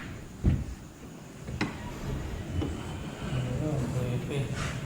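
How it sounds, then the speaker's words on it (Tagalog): Doors are shut inside the abandoned Villa Epifania, producing several dull thuds spaced a second or so apart over a steady, noisy room tone, with speech faintly present in the background. "Nasarado ko itong mga pintuan."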